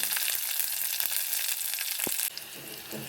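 Green chillies frying in oil make a loud, dense sizzle that drops off partway through, with a stray pop and faint stirring, no voices present.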